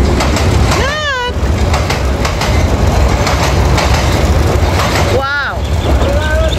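A train rolls past at close range with a loud steady rumble and clickety-clack of wagons, while a few voices call out excitedly over the noise.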